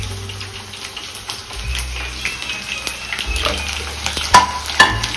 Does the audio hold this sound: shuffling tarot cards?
no